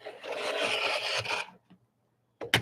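Quilt fabric for a London Town sampler block being trimmed: a close, steady rasping scrape that runs for about a second and a half, then quiet with a faint tick and a brief rustle at the end.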